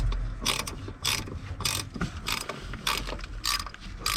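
A ratchet wrench clicks in rapid bursts while bolts on a VR6 turbo and wastegate are tightened in an MK3 build, about eight crisp ratcheting strokes in a steady rhythm, close and fairly loud with no talking.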